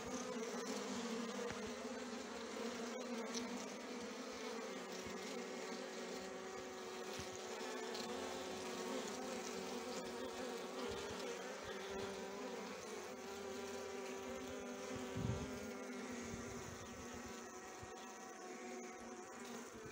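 Honeybees hum at an opened hive, a dense, steady buzzing swarm close by that carries on without a break, with one soft knock partway through.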